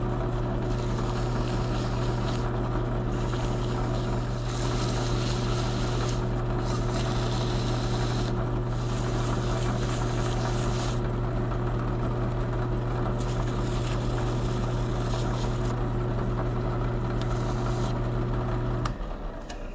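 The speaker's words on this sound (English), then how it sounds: "So I've got it chucked up into the drill press gently. We'll simply spin it up" Powr-Kraft router armature spun in a drill press against used 220 sandpaper: a steady, loud motor hum with a constant tonal drone and gritty hiss throughout, stopping near the end.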